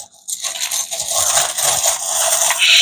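A pile of mixed world coins from different countries and decades is shuffled by hand, a steady close metallic clinking and rattling that builds and keeps going after a brief quiet start.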